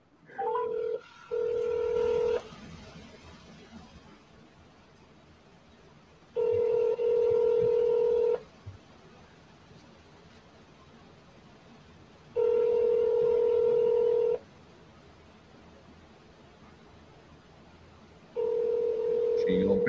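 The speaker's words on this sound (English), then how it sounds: "We're calling from a different phone." A phone places a call, its ringback tone sounding in four evenly spaced two-second bursts with quiet gaps between, clear and close over faint room noise.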